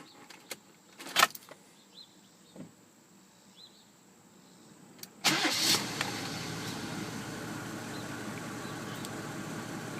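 After a few faint clicks and rattles, the 3.5-liter diesel engine of a Mercedes 350SDL cranks and catches, then settles into a steady idle.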